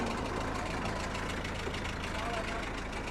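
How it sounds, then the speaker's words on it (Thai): A Mitsubishi car engine idles steadily up close with a constant low rumble and faint knocking; no clear revving stands out. "ติดเครื่องให้เบิ้งแล้ว นี่เครื่องยนต์ครับ"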